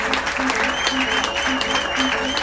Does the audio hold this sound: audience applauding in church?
yes